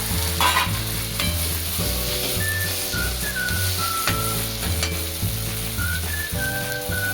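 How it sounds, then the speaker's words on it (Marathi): Ginger garlic paste and tomato sizzle in a hot pan while being stirred for a cauliflower, peas and potato bhaji, a steady frying hiss running throughout beneath prominent background music. "त्याबरोबर अद्रक लसूणची पेस्ट पण टाकून घेते. टोमॅटो टाकून घेते."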